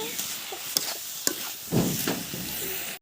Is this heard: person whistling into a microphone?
no